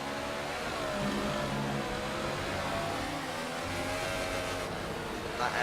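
Steady, rough engine drone of an overheated Formula 1 car in the F1 2018 racing game, holding a continuous whine and rumble throughout at moderate level without clear revving changes.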